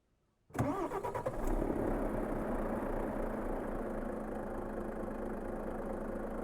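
Renault Range T truck engine in Euro Truck Simulator 2 cranks and fires after a moment of silence, then settles into a steady, loud idle rumble with no talking.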